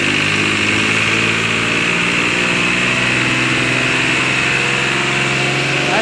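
A 3630 tractor engine runs after starting, a loud, steady idling drone with a constant mechanical hum that holds close and unchanged throughout.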